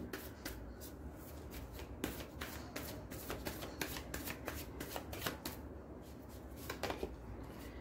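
Osho Zen tarot deck cards being shuffled by hand, a steady run of soft riffling flutters and crisp card slaps close up, repeating throughout with no talking.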